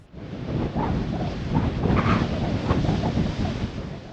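Rough surf and breaking waves roar continuously at a marina entrance in Cuba, mixed with heavy wind buffeting the microphone.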